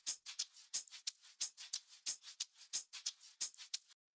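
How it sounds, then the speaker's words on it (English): A layered hi-hat and shaker loop in an electronic track, crisp bright ticks and shuffling hits in a steady syncopated pattern, quiet and heard alone until it stops. "So the next thing underneath that is this hi-hat and shaker together"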